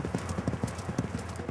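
Galloping horses' hooves drum on beach sand by the sea in a quick, steady clip-clop rhythm of soft, close thuds that continue throughout.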